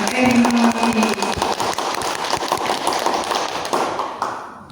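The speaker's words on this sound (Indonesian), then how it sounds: "Yang pertama kita aplaus dulu untuk Mbak Erina." Seminar audience breaking into applause, a dense close wash of hand claps that holds steady for several seconds before thinning out at the end.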